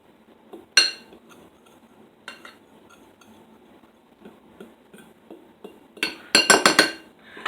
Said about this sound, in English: Okay, so then we're just going to get a fork